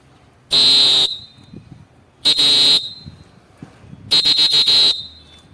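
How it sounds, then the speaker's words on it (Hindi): A kabaddi whistle blown with plain breath rather than a clean controlled tone, giving three loud, close, airy shrill blasts, the last one broken into quick stuttering pulses. "ये हम फूक मार रहे हैं, इसमें ये अच्छा टाइप ऑफ विसिल नहीं होता।"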